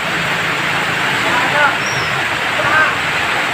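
Floodwater rushing steadily during Typhoon Carina, a continuous broadband wash of flowing water filling the space, with a voice speaking over it and faint brief squeaks.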